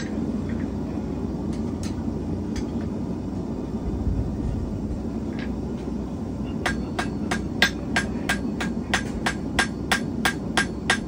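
Blacksmith drawing out a hook with a cross peen hammer: sharp metallic strikes, sparse at first, then a quick steady run of ringing blows over a low rumble of background noise.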